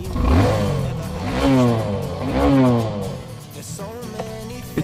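A single-cylinder 200cc motorcycle engine revs through its exhaust, rising and falling in two long, loud swells before settling to a steadier idle with a faint putter at the end.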